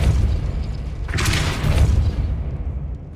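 The Depulso spell in the video game Hogwarts Legacy, a deep booming thump with a brief bright burst of energy in the middle, close and loud over a low rumble.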